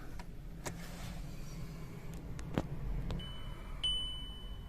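A Volkswagen's ignition is switched on, and a steady dashboard chime tone comes in near the end, with a brief click just before, over a low background hum.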